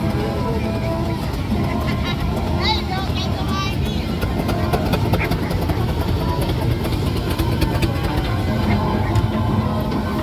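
A rebuilt Foden steam engine, built in Sandbach, runs at the Whitby steam rally with a steady low mechanical rumble that carries through the whole stretch, mixed with crowd murmur and voices in the background.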